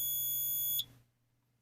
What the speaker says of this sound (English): Tried to start my timer, and now it's not working.